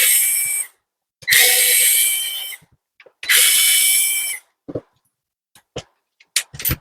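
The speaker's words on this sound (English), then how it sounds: "we need to unscrew 3 screws here." An electric screwdriver backing out T8 Torx screws on a Dyson V10/V11 cordless vacuum, three whirring bursts of about a second each, close and loud, followed by small clicks and taps of plastic, no talking.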